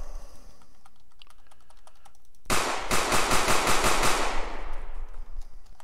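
A video-game pistol being drawn and reloaded: a sudden burst of rapid, loud mechanical clicks and clacks that fades out over a couple of seconds, after a quiet stretch of faint clicking.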